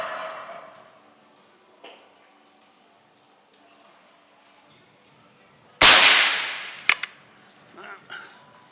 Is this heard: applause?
no